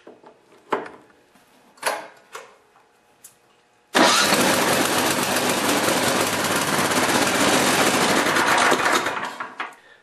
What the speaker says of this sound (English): if you're going to start a snowblower in your garage, always open the doors to keep the exhaust out